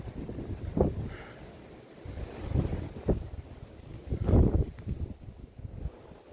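Gusty wind rushes and buffets the microphone in several loud bursts, rising and falling between quieter stretches.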